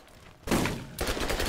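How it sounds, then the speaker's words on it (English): Shotgun blasts in Borderlands, two loud booming shots about half a second apart, each trailing into a rough noisy decay. "And this shotgun is not very good."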